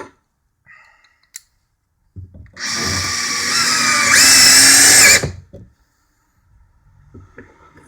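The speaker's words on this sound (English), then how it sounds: "you see how far I can drill in with drill mode" A Makita BTD141 18V driver in drill mode runs for about three seconds driving a 3-inch screw, its whine rising in pitch partway through before it stops, close and loud with quiet clicks around it.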